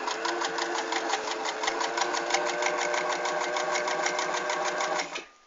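Sewing machine running a fine, short-length overcasting stitch, a loud, close, continuous rapid whir with an even pulsing rhythm that stops abruptly near the end.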